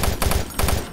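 Rapid automatic gunfire from DOOM 3 Enhanced Edition pounds out in a quick rhythmic burst of close, heavy shots lasting about a second.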